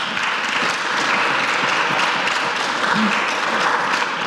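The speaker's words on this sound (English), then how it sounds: "I know you would like to applause, but please could you hold that applause until the end?" Steady, dense applause from an audience at a candidate forum, continuous and fairly loud throughout with no pauses.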